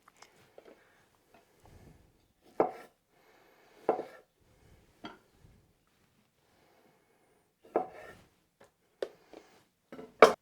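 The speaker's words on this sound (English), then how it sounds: "So I'm just going to cut them in half or quarters, depending on their size." Cherry tomatoes are cut in half with a knife on a board: scattered, distinct taps and thuds at an uneven pace, close-up, separated by quiet gaps with no voices.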